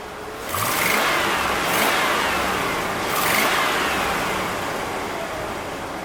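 A 2001 truck with a Vortec 8.1 engine revs up and settles in two broad swells, a loud rushing roar heard without talk.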